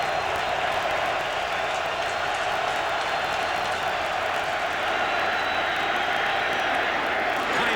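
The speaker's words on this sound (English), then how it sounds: "Crowd on its feet, 3rd and 10, cheering on this Eagles defense" A football stadium crowd at an Eagles home game against the Steelers roars steadily for the Eagles defense on a third-and-ten play, a dense, sustained wash of cheering with no break.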